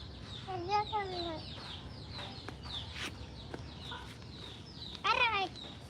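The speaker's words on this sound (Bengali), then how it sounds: "ওই যে মুরগি আসতেছে" A chicken clucks in short bursts nearby, with a louder squawking run toward the end over a quiet background.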